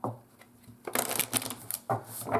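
Lenormand cards are shuffled by hand in quick bursts of soft riffling and flicking, close and fairly quiet, with brief pauses between handfuls.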